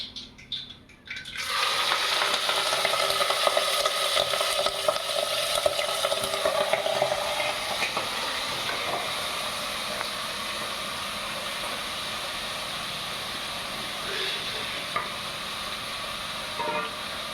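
Thinly cut beef tripe lands in hot oil with mustard seeds and curry leaves, bursting into a loud, steady sizzle that holds continuously and settles slightly, close and alone without talk.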